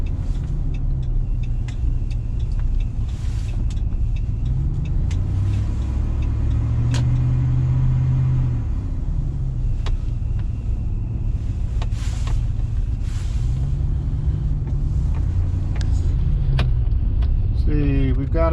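A 2012 Hemi Ram 1500 pickup cruising on a road test, its engine a steady low drone rising and falling with gear changes beneath constant road and wind rumble, heard from inside the cab with occasional talk.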